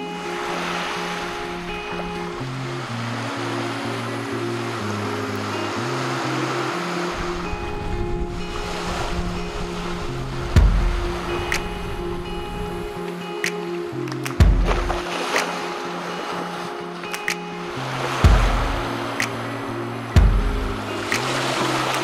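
Waves of Lake Superior breaking on a winter beach, a steady wash of surf with a few sharper splashes and a low droning tone underneath, with no voices over it.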